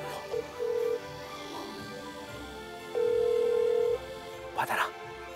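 A telephone ringback tone during a call, two long steady electronic beeps with a pause between, fairly close, mixed with background noise and a brief dog bark.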